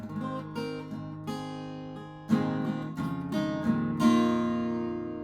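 A guitar riff played with a pick, with crisp picked attacks, repeating melodic notes and ringing chords, played close and clear with no voices.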